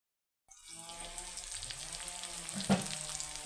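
Rui fish pieces fry in hot oil with salt and chili powder, a steady crackling sizzle that starts suddenly after a brief silence and continues close and moderately quiet, with one sharper pop near the end.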